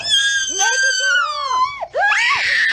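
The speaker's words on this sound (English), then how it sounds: "That's the perfectly cut scream." A high, piercing scream replayed from a clip swoops downward in pitch, breaks off briefly, then rises again into a second shrill wail, loud and close.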